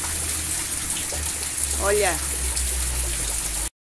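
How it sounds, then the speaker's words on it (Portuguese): Heavy rain pours steadily with a dense, hissing wash and low rumble, while a voice speaks briefly over it. "É muita chuva,"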